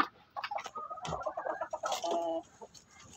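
Chickens cluck in short bursts at close range, with overlapping calls from a few birds and brief pauses between.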